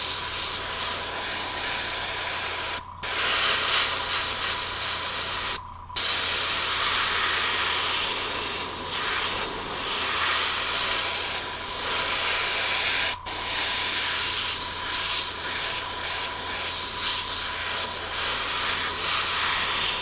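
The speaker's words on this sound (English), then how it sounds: "I can see the airbrush is flowing out nice and smooth, which is great." Airbrush spraying paint onto a Jordan 3 sneaker midsole, a loud continuous hiss that stops briefly three times as the trigger is released, with no talking.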